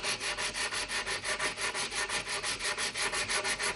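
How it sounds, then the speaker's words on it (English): Dried filler on a wooden Tannoy Windsor speaker cabinet being sanded by hand, a close, steady rhythm of about five rasping strokes per second, alone with no talk. "Now we're going to start rubbing the filler down."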